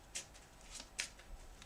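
A deck of cards shuffled by hand in a few quick, soft riffling bursts, close but faint in a quiet room.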